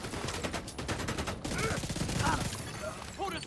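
Rapid bursts of gunfire from a resource gun in a video game, with dense repeated shots and overlapping in-game effects at close, fairly loud level.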